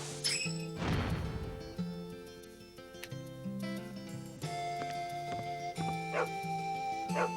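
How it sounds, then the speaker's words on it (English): A dog in the video game Wild Arms 3 gives sharp barks and yelps, then whimpers, set against melodic in-game music and a crash-like hit near the start. "That's actually a dog, not a cat."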